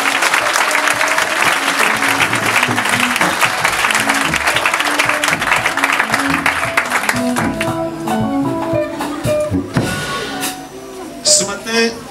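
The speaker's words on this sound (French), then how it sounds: "Acclamez-le pour moi." A church congregation claps loudly and steadily for several seconds, then the applause thins out as a few voices and scattered claps remain in a reverberant hall.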